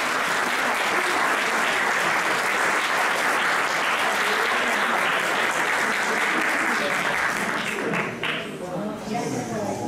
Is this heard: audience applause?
yes